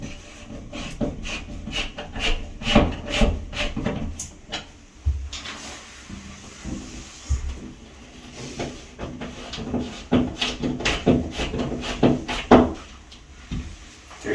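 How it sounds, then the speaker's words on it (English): Plastic wall anchors being worked into a bathroom wall, giving repeated close rubbing, tapping and scraping sounds in uneven bursts with short pauses, no talking. "I'm going to install 2 more anchors onto the wall."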